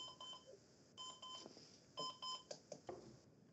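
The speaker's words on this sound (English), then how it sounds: "there was some alarm in the background" An electronic alarm beeps repeatedly in the background at a dart tournament qualifier, in short rhythmic tones of a couple of pitches that are faint, with low room noise underneath and no talking.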